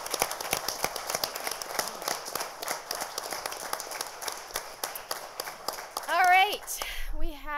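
Scattered, fairly quiet clapping from a conference audience thanking panelists, sparse claps spread through the clip, followed by a voice speaking near the end.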